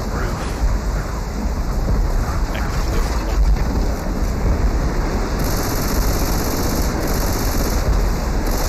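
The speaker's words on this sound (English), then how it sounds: "The rain's coming again." Heavy rain pours steadily in the Left 4 Dead 2 Hard Rain campaign, a dense loud hiss with low rumbling thunder swelling beneath it throughout.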